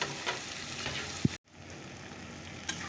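Onion, garlic and tomato sautéing with spices and salt in a pan, a steady close sizzle with stirring scrapes and one brief knock partway through, no voices.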